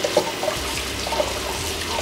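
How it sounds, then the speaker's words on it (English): Tap water runs over quinoa in a sieve set in a bowl, a steady soft splashing stream heard alone at moderate level. "So I'm just going to rinse this under the running tap, placing my bowl beneath."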